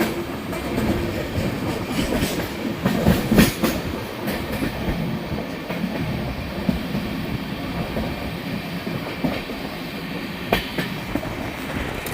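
A train running on rails near Goa, heard from on board with a loud continuous rumble, rhythmic clickety-clack of the wheels and occasional metallic clanks throughout.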